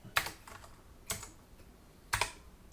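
Code being typed on a computer keyboard: three separate bursts of quick, close clicking keystrokes, spaced about a second apart, with quiet gaps between and no talking.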